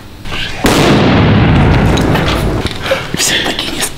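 A loud firecracker blast goes off near a warehouse setting, a sharp broadband boom followed by a long rumbling decay, with voices talking over the tail.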